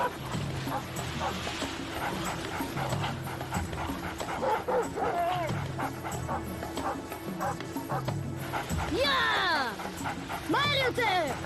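Sled dogs in an animated series bark, yip and whimper in repeated bursts, with high whining cries rising near the end, close and loud, while voices talk in the background.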